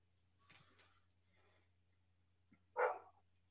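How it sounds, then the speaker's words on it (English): A dog barks somewhere in the background, with a couple of faint, distant-sounding yaps followed by one louder single bark over a low steady hum. "Whose dog is that?"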